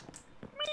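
A cat meows inside the video game Minecraft: two short, faint calls and then a brighter, tonal meow toward the end, all close and brief, with no talk over them.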